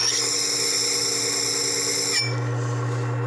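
A Worksharp 3000 sharpener with a CBN wheel grinds metal on an antique tool, making a steady high whining rasp for about two seconds before the grinding stops and only the motor's lower hum remains.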